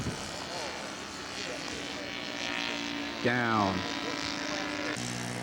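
Scale model aircraft landing in a 90-degree crosswind, its engine a steady buzzing drone throughout, with a rising and falling whine near the end, under continuous commentary and crowd talk.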